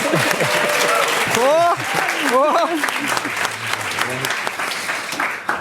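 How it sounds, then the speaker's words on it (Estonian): Audience applause at a panel discussion event, a continuous crowd clapping that runs under a talking voice, with a sustained low tone partway through. "Teeme uue aplausi neile, palun, nad on siin!"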